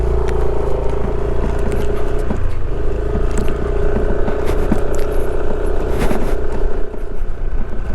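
A motorcycle rides over hard, firm sand on the sea of sand at Bromo near Malang, its engine a steady, loud, continuous rumble close by with scraping texture throughout, no talk.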